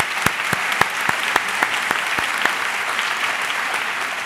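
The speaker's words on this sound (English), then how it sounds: "let's give a round of applause to all those art teachers who've been working with our students" Applause rises from a school convocation audience honoring the district's art teachers, a steady clapping wash with sharp individual claps standing out at first and thinning slightly toward the end.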